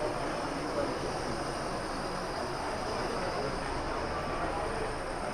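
Model railway quarry locomotives running on an exhibition layout, a constant busy whirring hum with hall ambience, moderate level and unbroken, with no voices.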